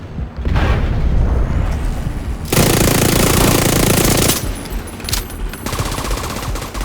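Loud automatic gunfire in The Division 2, dense bursts of rapid shots with booming impacts filling the clip, one sustained volley in the middle and shorter rattling bursts after.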